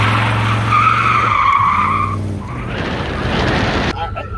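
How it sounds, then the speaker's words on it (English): Car tires squeal loudly from a freshly welded differential, giving a sustained high screech over a rumbling engine, then fading into road and motor noise. "Our tires are squealing a little bit, and here I'll demonstrate to you exactly how much we can make them squeal."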